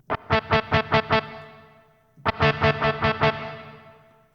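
Two bursts of rapid, distorted synthetic guitar notes from a 1992 Roland SC-33 MIDI module with reverb, each ringing out into a long reverberant tail that fades slowly, with no other sounds.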